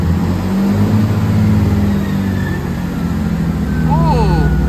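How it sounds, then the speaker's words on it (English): A diesel passenger train revs its engine hard at a station as the doors close before departure, giving a loud, steady low rumble throughout that rises slightly, with a brief squeal near the end. "these diesel trains make a real big rev up before they go like this."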